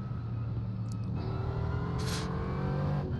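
Steady engine drone and low rumble from GT4 race cars in iRacing at the Nürburgring VLN endurance course, a continuous mid-level hum with a brief brighter whoosh of another car passing, no talk.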